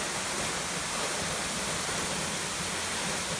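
The waterfall at Cerveteri roars in a steady, dense rush of falling water, loud and close, filling the whole moment without any break.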